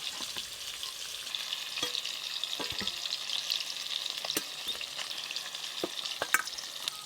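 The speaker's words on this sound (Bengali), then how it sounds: "ওইদিকে মাছগুলো ভাজা হতে হতে" Rohu fish pieces rubbed with salt and turmeric fry in hot oil in a pan, making a quiet, steady sizzle broken by sharp crackles and spits, with no talking.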